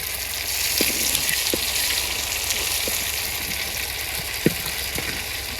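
Fish, rohu in a village kitchen, fries hard in hot oil with a steady close sizzle, while scattered pops and spits break through the hiss.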